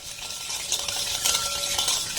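Oil and sugar are blended together for a semolina malai cake batter, giving a steady, close whisking and stirring hiss with light scraping against the bowl and no voices.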